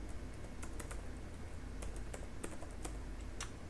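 Quiet, close keystrokes on a computer keyboard type out a composer command, irregular bursts of light clicks over a faint steady background hum.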